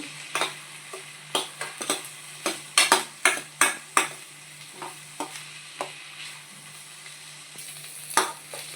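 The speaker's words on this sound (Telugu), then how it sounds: "మొత్తం ఆనియన్స్, ఈ పచ్చిమిర్చి అలా బాగా వేపుకోండి." Onions and green chillies fry in a pan for an egg curry, with a steady low sizzle broken by sharp, repeated clicks and scrapes of a spatula stirring against the pan, loudest in a quick run midway.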